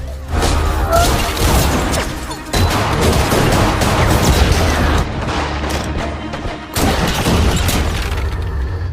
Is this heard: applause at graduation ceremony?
no